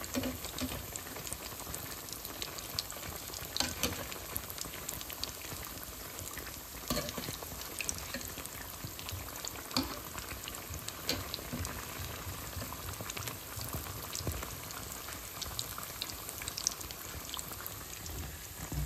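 Aloo chop, potato chops, sizzle in hot oil on a home stove, a constant crackling fry with scattered pops and spits running steadily and close, no voices.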